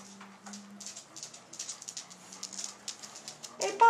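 Young puppies playing outdoors give a string of soft, high whimpers and yips, faint and intermittent, with a louder burst at the end.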